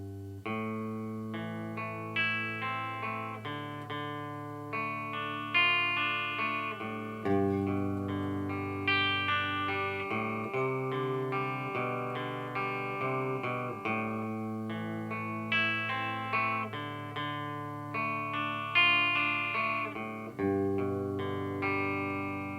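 An electric guitar with effects plays a chord progression alone, each strum ringing into the next at a slow, steady pace.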